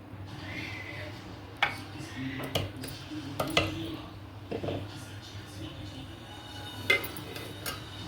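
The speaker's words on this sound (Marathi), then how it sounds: "चला प्लेटमध्ये काढून घेऊ भाजी" A cooked vegetable dish of boti (tripe) is served from a pot onto a plate, with scattered metallic clinks and scrapes of a spoon against cookware and a voice talking through it.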